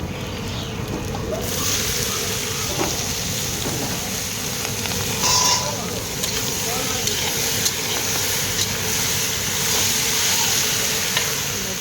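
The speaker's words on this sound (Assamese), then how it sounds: "মাছৰুম ভাজিবলৈ লৈছোঁ" Mushrooms frying in hot oil in a wok with onion, a steady close sizzle and hiss with occasional scraping stirs, and a voice speaking now and then over the cooking.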